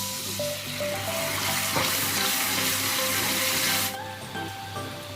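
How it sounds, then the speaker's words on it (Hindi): Loud, steady sizzling of chicken frying in a pan with red chilli powder, with a burst of poured water hitting hot oil before the sizzle settles slightly quieter. "साथ ही इसमें थोड़ा सा पानी डाल देंगे।"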